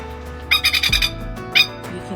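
A bird lets out a quick series of four or five loud, harsh squawks, then one more call a moment later, close by and over a low background hum.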